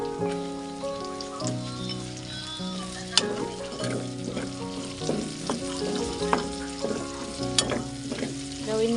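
Onions frying in a clay pot for a chicken leg dish: a steady close sizzle with repeated sharp clinks and scrapes of a utensil stirring, and a faint musical tone running underneath.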